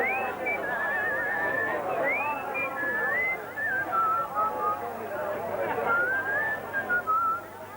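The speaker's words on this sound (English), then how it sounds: "What's that you're whistling" A person whistles a lilting tune with sliding, warbling notes, fairly close and steady throughout, over a faint low hum and soft background murmur.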